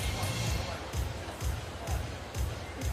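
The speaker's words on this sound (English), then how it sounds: "Crowd having fun, just as they've been having fun throughout the men's and women's event." Spectators at a Paralympic goalball match in Paris cheer and clap between points, a broad steady roar of a large crowd with rhythmic swells, while a commentator talks over it.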